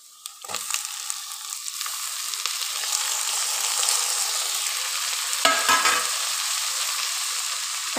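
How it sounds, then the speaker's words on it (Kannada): Onion and tomato fry in a pan for a coastal Kundapur-style okra palya, a steady close sizzle with short bursts of stirring scrape near the start and again around the middle, no voices. "ಈರುಳ್ಳಿ ಫ್ರೈ ಆಯ್ತು. ಈಗ ಟೊಮೊಟೊ ಹಣ್ಣು ಹಾಕೊಂಬೋ."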